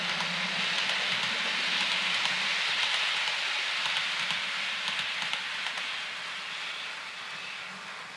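Two model locomotives run double-headed around a layout, producing a steady close rolling rumble and hiss with faint rail clicks, easing slightly toward the end.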